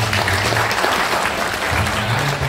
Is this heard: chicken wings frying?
no